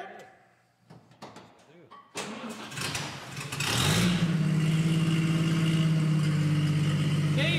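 A 1948 Chevrolet engine cranks briefly after a few clicks and thumps, then fires and settles into a loud, steady, close-up idle.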